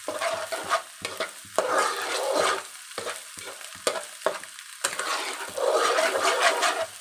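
Egg bhurji is stirred as it fries in oil in a pan, giving a close, continuous sizzle broken by repeated scraping strokes of the spoon in an uneven rhythm.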